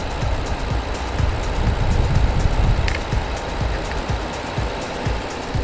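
A Rolls-Royce Ghost Black Badge engine idles steadily with a low, even rumble and faint ticking, continuous and close, with no voices.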